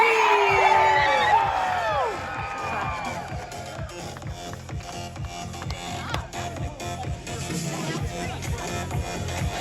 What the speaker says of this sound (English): on the count of 3, let's scream for the Big Bad Wolf.